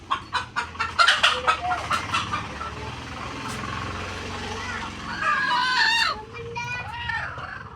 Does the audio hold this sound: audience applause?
no